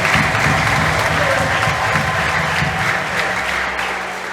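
Sustained applause from a church congregation during a Sunday service, steady and full throughout with a dense crowd clap texture that fades slightly near the end.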